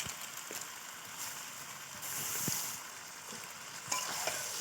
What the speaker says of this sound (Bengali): চিকেনটা দেখেছো কতটা সুন্দরভাবে কষাচ্ছি